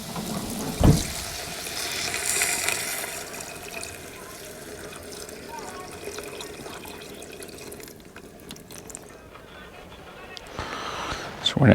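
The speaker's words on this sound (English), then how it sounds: "Then after the flour, we're gonna add some broth." Broth pours into a pan over flour at a camp cooking setup, a running liquid trickle and splash that rises and fades, with clatter and faint background voices around it.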